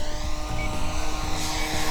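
An RC P-51B Mustang model plane, a 1580mm ARF warbird, makes a low pass at full throttle, its engine roaring loud and steady throughout with a slight rise in pitch toward the end.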